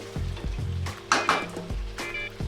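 Chicken roast being stirred in a pan, utensil scraping and clinking against the metal in uneven strokes over a soft sizzle, with a brighter burst of frying partway through.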